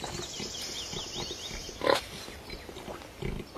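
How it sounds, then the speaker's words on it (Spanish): Pigs rooting in a forest for truffles, with soft grunts and snuffling close by, a sharper squeal-like burst midway and another grunt near the end, over low rustling background. "hace siglos que se adiestran cerdos para localizar trufas"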